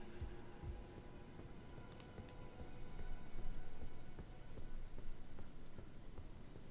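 Steady rain patters in Elden Ring: Shadow of the Erdtree, a continuous soft hiss of drops with a few faint sharper taps, and no talk.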